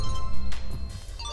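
A phone ringtone plays loudly and continuously for a moment, a bright electronic melody heard close in a Hindi-dubbed movie scene.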